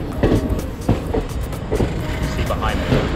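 Passenger train travelling through India, a steady rolling rumble with rhythmic clicks of wheels over rail joints, heard from on board beside open sides, with people talking nearby.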